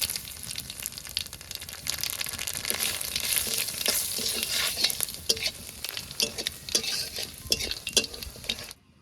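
Dry red chillies and nigella seeds sizzle in leftover fish-frying oil close by while a utensil stirs and scrapes the pan repeatedly, the frying hiss steady until it cuts off.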